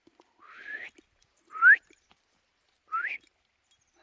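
Bird calling outdoors near a cabin building site: three separate rising whistled notes, spaced about a second apart, fairly faint against a quiet background.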